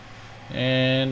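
A QualityWings Avro RJ85 jet engine spools up in a flight simulator: quiet at first, then a steady layered whine with a high hissing tone begins suddenly and holds loud to the end.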